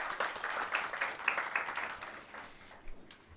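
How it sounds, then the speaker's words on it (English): An audience at a study course on transfer pricing gives a modest round of applause to welcome a speaker, with steady moderate clapping that tapers off after about three seconds. "may I request all of you to welcome him with a loud applause."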